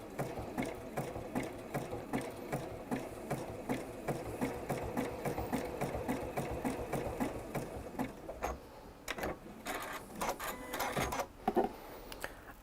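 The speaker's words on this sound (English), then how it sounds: "so that you can do quite a lot of sewing all in one go without having to do a lot of stopping and starting" A sewing machine stitches fabric in a long continuous run, its rapid mechanical needle chatter steady and close for most of the span, easing briefly near the end before a few louder clunks.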